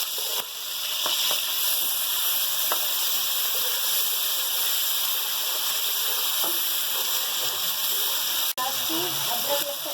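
Ginger garlic paste frying in a pan for a beef kofta curry, after onions have cooked, giving a steady close hiss and sizzle that continues evenly throughout.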